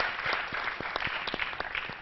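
Dense crowd applause at a tech conference closing ceremony, with many hands clapping at once in a lively, continuous burst.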